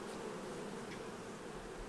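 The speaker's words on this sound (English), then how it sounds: "these bees are just gently moving along the combs" Honeybees on a comb frame lifted during a summer hive split give off a steady, soft, even buzz throughout, calm and unbroken with no voices.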